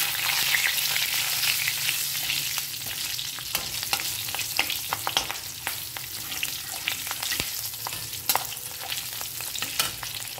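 Spice paste and green chillies frying in a pan for a vegetarian pointed gourd dish give a steady, close sizzle with scattered sharp crackles and pops, and no one speaks.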